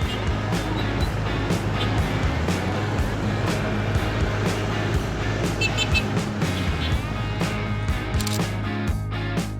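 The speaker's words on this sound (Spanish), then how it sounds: "Ho Chi Minh City también destaca por la impresionante cantidad de motocicletas en sus saturadas avenidas." Dense, continuous traffic along busy avenues in Ho Chi Minh City, crowded with motorcycles, forms a loud steady engine roar with constant rumble and passing vehicles, no talk over it.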